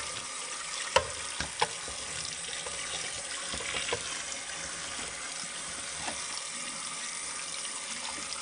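Quince sticks rinsed under running water in a kitchen sink, a steady broadband wash of flowing water with a few brief clinks and splashes, close and alone without speech.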